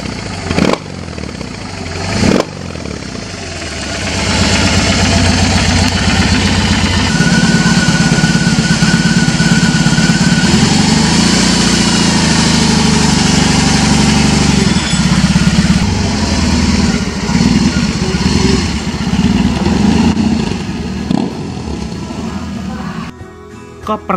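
A BMW R18 motorcycle fitted with a Header Flow Pipe exhaust idles close by, a deep loping rumble that steadies into a constant throb, with a voice talking over it in places.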